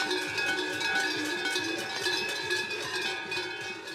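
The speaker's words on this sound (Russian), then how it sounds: "Люди в масках, несущие огромные медные колокола. Они издают сильный шум" Big metal bells clang continuously in a loud, jangling clatter, many ringing at once with an uneven rhythm.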